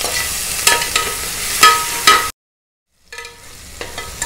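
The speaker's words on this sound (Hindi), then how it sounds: "फिर इसमें मैं डालती हूँ लहसुन अदरक, सभी अच्छा से हमें मसाला भूनना है" Garlic, ginger and masala fry in a pan for a pulao, making a steady, close, loud sizzle with scraping stir strokes. A brief gap of silence falls midway, then the quieter frying resumes.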